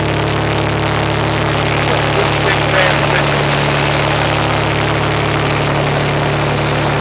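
Gas tractor engine idling after a cold start in mid-20s weather, a steady low rumble with a constant hum that holds evenly and loudly throughout with no talking.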